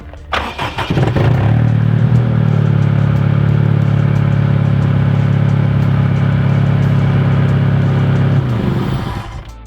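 A supercharged K24-swapped Acura Integra DA time attack car cranks and fires up, then idles loud and close with a rough, steady roar before settling at the end.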